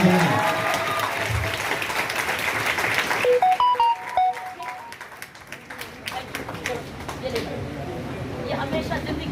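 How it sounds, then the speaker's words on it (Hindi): Applause breaks out for a felicitation at a university youth interaction event, dense clapping from a crowd with voices mixed in and a few tonal pings midway, gradually thinning toward the end. "जोरदार तालियां"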